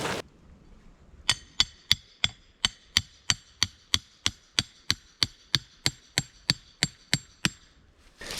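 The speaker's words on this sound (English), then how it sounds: "I drove a piece of rebar in and pulled my wire around it" A hammer driving a piece of rebar into the ground outdoors, about twenty sharp metallic strikes in an even, steady rhythm, close and loud with quiet gaps between blows.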